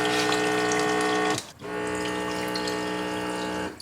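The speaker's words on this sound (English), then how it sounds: "So I'm gonna go and sanitize the Brezza now." A Baby Brezza formula machine runs water during a sanitizing cycle, giving a steady pumped gushing with a humming motor tone, briefly dropping out midway before resuming, close and alone without talk.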